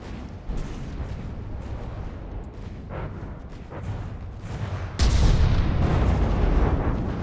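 Warship broadside gunfire in a naval video game: distant booming artillery reports roll under a continuous rumble, building to a louder heavy blast partway through.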